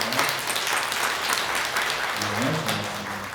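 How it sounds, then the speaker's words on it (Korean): A church congregation applauding during a Sunday worship service, a steady wash of many hands clapping with a voice briefly speaking over it. "다시 한번 크게 한 박수 합시다."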